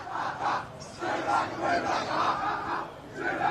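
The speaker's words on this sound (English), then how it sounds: "you can hear the crowd going" A crowd at a school first XI soccer grand final, Rostrevor against CBC, roars and cheers continuously in surging waves, loud and dense with mixed shouts throughout.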